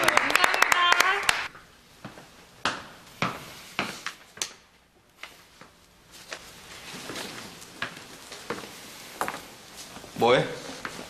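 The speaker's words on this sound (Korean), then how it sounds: "자, 박수!" A small group of office colleagues gives a short burst of applause, with scattered claps and knocks following. Voices speak over the start and again near the end.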